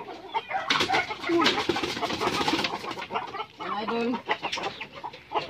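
Hungry backyard chickens, recently vaccinated, cluck busily at feeding time, a dense chorus of close squawks and clucks with a voice speaking briefly over them.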